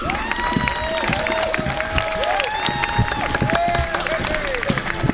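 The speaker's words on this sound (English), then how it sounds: "Please give a big applause for the first country, Holland, the Netherlands." A crowd at a dance sport closing and award ceremony claps and cheers steadily as a country's team is announced, with a loud voice speaking over the sustained applause and scattered shouts.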